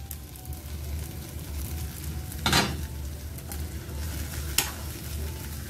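Garlic and eggplant frying in oil for a kulambu, a low steady sizzle close by, broken by two sharp clanks of a utensil against the pan.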